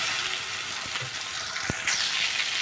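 Ginger-garlic paste, onion paste and tomato fry in hot oil, making a loud, continuous crackling sizzle up close, with a couple of short utensil knocks partway through.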